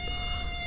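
A mosquito buzzes with a continuous, thin, high-pitched whine, close and steady, with no voices.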